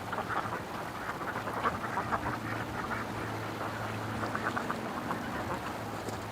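Ducks quacking on a lake in bursts of nasal calls, some overlapping, moderately near, over a low steady background hum.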